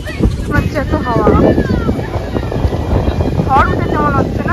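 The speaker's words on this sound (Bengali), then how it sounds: "ঝড় উঠেছে মনে হচ্ছে না?" Strong gusting wind of a rising storm outdoors buffets the microphone with a constant loud roar, while several people talk and call out over it.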